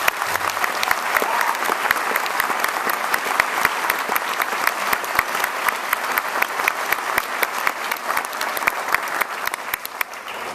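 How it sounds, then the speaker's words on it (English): Steady, dense applause from a large audience at a high school symphonic band concert, loud and sustained throughout with no gaps. "we need to give them just a tremendous round of applause"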